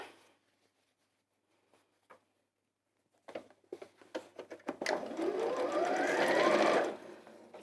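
A sewing machine stitches a quarter-inch double-folded hem on a pillowcase, starting with a few soft clicks and then running in a steady, close whir that speeds up before stopping.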